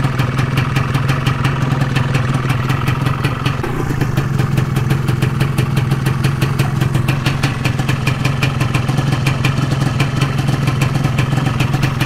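A Yamaha 125Z motorcycle engine idles steadily and loudly up close, running rich, a rapid even chugging with rattling mechanical clatter throughout, no voices.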